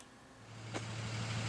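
Tow truck pulling up outside, a low steady engine rumble rising slightly and holding, with a brief squeak midway and no talking.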